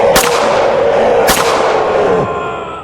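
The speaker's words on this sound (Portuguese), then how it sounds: "um rugido seguido de um grito e tiros ecoaram do outro lado da casa" Two sharp, booming gunshot effects with long echoing tails ring out in a narrated horror story about a werewolf, the blasts about a second apart and loud over a dense, rumbling background.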